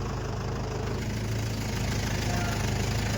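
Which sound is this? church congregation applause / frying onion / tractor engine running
tractor engine running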